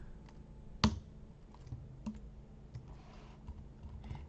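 Computer keyboard typed on while writing code: one sharp loud key strike followed by scattered lighter clicks and short bursts of keystrokes, close and quiet, with no talking.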